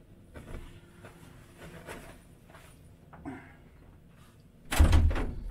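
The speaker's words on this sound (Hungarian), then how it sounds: "Jó, fúj a szél, be kell csukni az ajtót." A door is shut against the wind, ending a quiet stretch of faint rustling and background noise with a single loud thump near the end.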